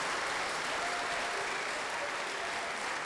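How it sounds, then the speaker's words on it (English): Steady round of applause from the audience at a university venture prize pitch night, dense and even clapping lasting about three seconds, heard from some distance at moderate level. "So a big round of applause for the Nelson Center staff."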